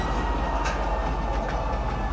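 A train rolls into the TISA spaceport in the video game Star Citizen, a continuous rumbling rail clatter with faint wheel hiss, steady and close, with no talk.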